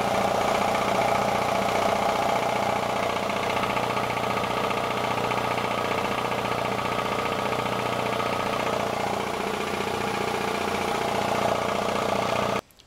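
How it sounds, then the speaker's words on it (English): An air compressor, wired to a 220-volt supply and plugged so it can build pressure, runs with a loud, steady motor hum and a mechanical whir. It continues unchanged for about twelve seconds and then cuts off abruptly. "Free compressor, wired it up 220, and I've got to get a regulator and see how it works."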